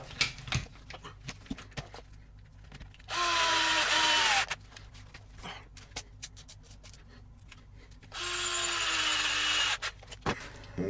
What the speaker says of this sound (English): put the 2 front screws in.